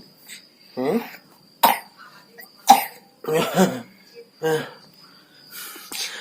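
Several separate coughs, some harsh and some with a short throat-clearing quality, spaced out over a few seconds against a faint steady hiss.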